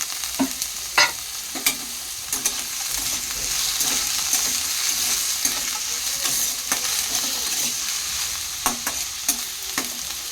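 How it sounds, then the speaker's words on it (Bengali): Potatoes fry in a pan while chowmein is being made, giving a steady soft sizzle with occasional close scrapes and clicks of a stirring utensil. "আলুটা ভেজে তারপরে এর মধ্যে ডিম দেবো।"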